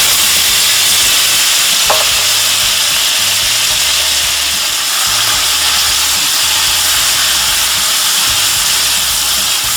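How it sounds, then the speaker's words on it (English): Flat iron steak stir-fries in a hot pan, a loud, continuous sizzle and hiss close up with faint scraping from stirring. "So I'm just going to continue stirring it around and get the meat cooked on all sides"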